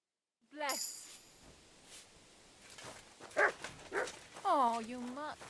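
A dog barks a few times in a medieval village in Kingdom Come: Deliverance II, short yips and whimpers close by, mixed with game character speech and voices that carry over it.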